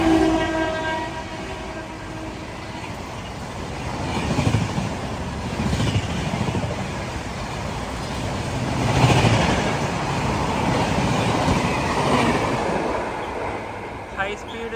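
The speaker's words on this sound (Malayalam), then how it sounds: "ദാങ്കുനി സ്റ്റേഷനിലെത്തിയ ഇതാ ഒരു ട്രെയിൻ വരുന്നതാ." A train arriving at Dankuni station in India sounds its horn in a long, harmonic blast near the start, then a heavy, loud rumble of wheels and carriages rolls on steadily.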